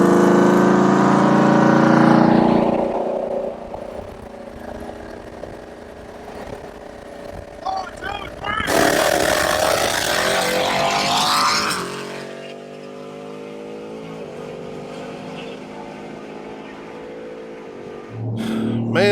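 Loud pickup truck race, a stock 2021 Ford F-150 5.0-liter V8 against a supercharged F-150: engines roar as they accelerate, revving rises and falls with gear shifts, then a louder rushing pass before the sound settles.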